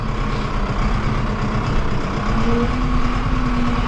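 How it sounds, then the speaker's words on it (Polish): A farm tractor idles nearby before being parked, giving a steady, close, low diesel rumble with no voices over it. "a teraz jadę już zaparkuję ciągnik sobie pod bram, pod płotem jak zawsze"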